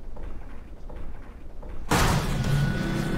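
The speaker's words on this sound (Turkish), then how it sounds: "Aa, trene çarptı." A sudden loud crash in Need for Speed: The Run as a car slams into a train, a sharp impact that breaks in after quiet rumbling and then gives way to a sustained roar of noise.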